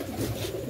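Pigeons coo softly at a pigeon market in Old Delhi, a brief low burbling coo against a faint busy background.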